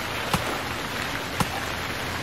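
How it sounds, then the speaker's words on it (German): Loud, steady rain in the survival video game Stranded Deep, a dense continuous hiss with two brief sharper hits standing out, no voices. "ist das Sample vom Regen laut"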